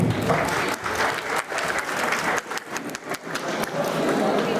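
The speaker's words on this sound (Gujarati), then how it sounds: "ચાલો આજે આપણે આપણી જાતને વધાવીએ અને આ હિંમતવાન પેઢીને તાળીઓથી અભિનંદન આપીએ" Audience applause at a reunion felicitation of past boarding-school students, a dense sustained clapping from a crowd that stays loud and even for several seconds.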